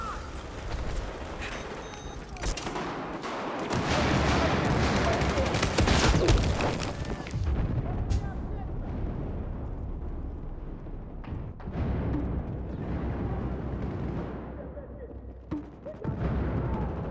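M16 rifle fire rattles in Battlefield 4 gameplay as dense bursts and cracks with explosions mixed in, loud at first and then thinning to scattered shots, with a voice talking over parts of it.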